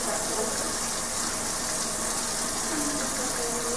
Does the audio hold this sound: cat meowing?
no